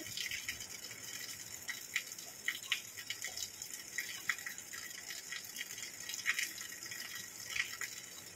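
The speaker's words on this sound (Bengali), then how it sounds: "প্রথমে একটু জল দিয়ে দেব।" Water pours steadily into a pan for an okra dish, a continuous close trickling and splashing with small drips, heard alone.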